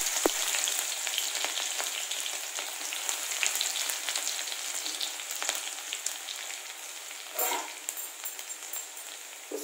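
Cumin and garlic hit hot oil and sizzle with a bright, continuous frying crackle, close and steady, with a few sharper pops along the way.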